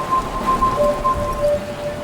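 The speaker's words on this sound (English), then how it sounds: "you should then see a flashing light outside the map and hear some beeps alongside it" After all four radios are activated on the Call of the Dead map in Black Ops 1 zombies, a series of short electronic beeps sounds at two pitches over steady rain and distant thunder ambience, with no talking.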